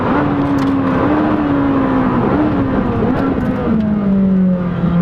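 Ferrari 458 Speciale V8 in race mode, braking hard as the gearbox automatically downshifts: a loud, continuous engine note close up, its pitch sliding down in steps with brief blips, no talk.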